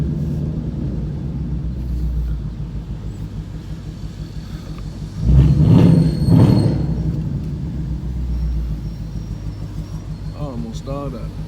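A 5.0 Ford Mustang engine idles roughly and nearly stalls while driving in the rain, with a loud low rumble that surges briefly mid-clip over steady road and rain noise, without any talking.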